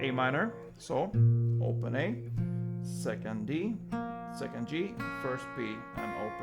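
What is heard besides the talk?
None of the usual background noises is heard.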